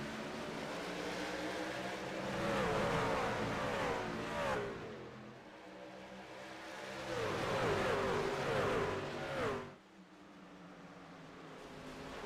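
Race cars roar away at the start of a simulated race at Phoenix, engines rising and swelling in two loud surges before cutting out abruptly, with a quieter engine drone continuing after the break.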